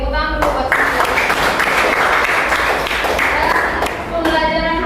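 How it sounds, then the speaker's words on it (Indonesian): A classroom of students applauds for a teacher during a lesson, a dense burst of clapping that swells and holds for several seconds, with brief talk at the start and end. "Oke, tepuk tangan dulu buat saya."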